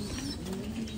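A pigeon gives a low, throaty coo in a soft, steady, humming tone lasting about a second, close by and quiet, with no talking.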